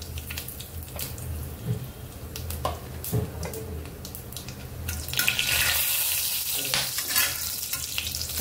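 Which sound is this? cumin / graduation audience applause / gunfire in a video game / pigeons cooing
cumin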